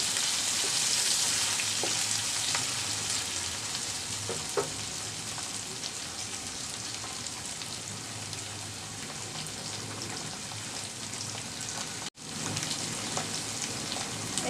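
Onions frying in oil in a pan with salt added, a dense, continuous sizzle filling the whole span, loud and steady with small crackles and one brief dropout near the end.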